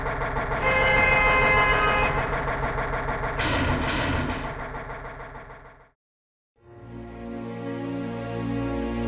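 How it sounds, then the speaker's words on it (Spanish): A car horn honks loudly in long tones as a medium car engine approaches, cutting off briefly before an engine rumble returns, used as a dramatic sound effect in a horror narration. "escuché el sonido del auto de mi padre"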